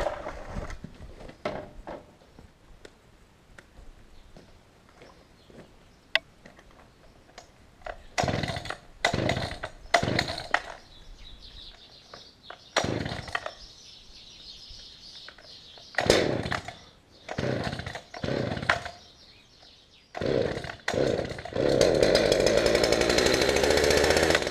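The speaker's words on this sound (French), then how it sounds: "je vais bien m'assurer qu'elle démarre" A chainsaw is pulled and started before cutting up a dead fallen tree in the woods, giving several short bursts of revving. It then settles into a loud, steady running drone near the end.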